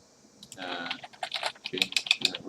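Someone types an answer on a computer keyboard in quick, close bursts of key clicks, with a voice speaking quietly at the start.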